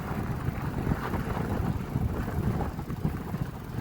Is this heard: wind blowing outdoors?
yes